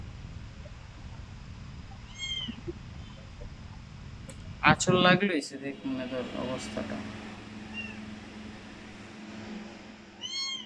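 A cat meows a few times, thin rising calls early and late, mixed with rustling and thumps as it climbs down, while someone talks nearby over a steady air-conditioner hum.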